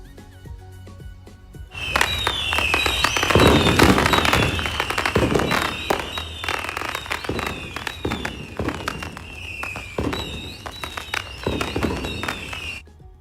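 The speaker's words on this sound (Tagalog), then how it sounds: "Let us have item number 2, sound of fireworks." A recording of fireworks, a dense barrage of sharp cracks and pops with crackling bursts and thumps, starting abruptly after a quiet moment and staying loud and continuous before easing slightly near the end.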